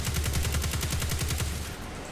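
Rapid automatic gunfire in Destiny 2, a steady fast stream of evenly spaced shots that fires for most of the moment and then cuts off abruptly.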